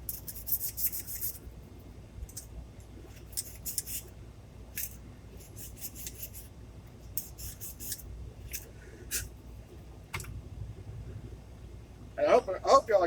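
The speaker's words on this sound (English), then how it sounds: "Just going to kind of scuff up the surface a little bit." Scratchy bursts of scuffing roughen the surface of cheap O gauge model train track, coming in short irregular strokes with pauses between them and a denser scraping flurry near the end.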